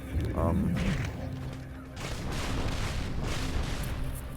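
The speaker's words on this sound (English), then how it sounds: "I'm gonna kill the other guy with my brute shot" Brute Shot grenade launcher fired in Halo 2 gameplay on the Uprising level, booming blasts in a dense wash of game noise and music, fairly loud throughout.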